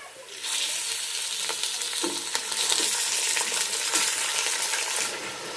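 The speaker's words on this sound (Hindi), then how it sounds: "थोड़ी देर हम चिकन को भूनेंगे" Chicken frying with golden onions, a loud, dense sizzle that rises suddenly and holds steady, with faint scraping and stirring under it.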